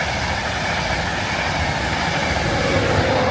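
Class 91 electric train passing beside a wall and trees, a steady loud rushing roar of rail noise that holds throughout without a break.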